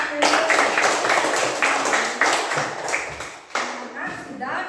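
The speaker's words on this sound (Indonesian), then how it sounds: "Tepuk tangan dulu buat pilih." A classroom of children claps their hands in rhythmic bursts with some taps and thumps, fairly close, while voices are heard over the clapping.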